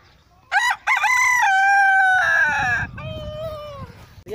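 A rooster crows loudly and close in a Pakistani village, with a long drawn-out call. Chickens cluck around it, and faint background talk follows.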